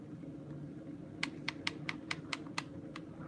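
Keyboard typing: a quick run of about eight crisp, close key clicks in an irregular rhythm over a low, steady room hum, with no talking.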